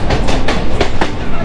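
The Howrah–Digha Tamralipta Express pulls out of the station right alongside, a loud, close rhythmic clickety-clack of wheels over rail joints beating steadily over a heavy rumble.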